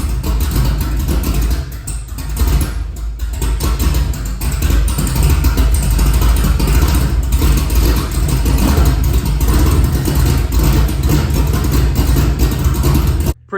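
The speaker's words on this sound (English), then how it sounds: "So the truck started." Engine of a Chevy prerunner truck with new plug wires and a freshly done exhaust, running loud and close with repeated revving surges and a brief dip early on, alone without talk.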